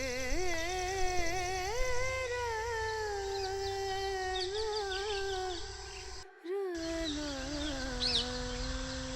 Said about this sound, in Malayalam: തത്തയാണ് കേട്ടോ, തത്ത.